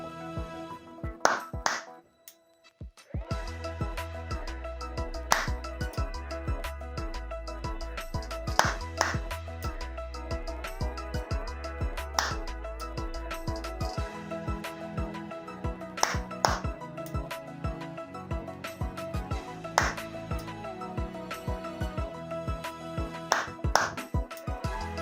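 Sharp hand claps meant to trigger a clap-activated lamp switch ring out as several separate bursts, spaced irregularly over a steady tonal background hum.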